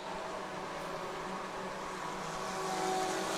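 Race cars in an enduro at Thunder Road Speedbowl roar together in a steady, dense engine drone, loud and continuous with a slight swell toward the end.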